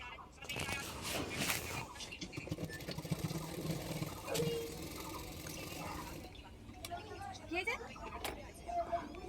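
A sewing machine stitching the shoulder seams of a kurti with a half-inch margin: a steady mechanical whirr and rapid needle clatter, close and continuous, with brief pauses and someone talking over it.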